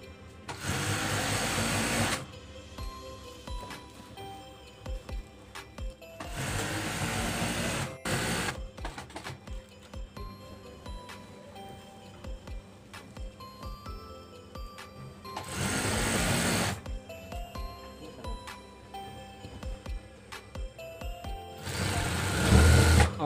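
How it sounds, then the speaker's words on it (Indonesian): A sewing machine stitches a torn bed cover in several loud, steady whirring runs of a few seconds each, separated by quieter pauses with faint handling noise. "seperti jahit bed cover pada umumnya digulung-gulung sebelah kanannya, dan kemudian ini kita dijahit"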